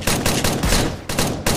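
Bursts of rapid gunfire in the video game Rogue Company, several loud close volleys broken by short gaps, with no speech.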